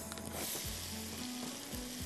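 Onions added to hot oil where ginger and garlic have already fried, with green chilies to follow, hissing in a loud, continuous close sizzle with a few bubbling bursts.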